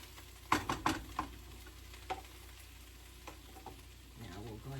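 Onion and shallot blend frying in a pan for a Christmas dinner, with a steady low sizzle and a few sharp stirring clatters near the start, fairly quiet and with no speech.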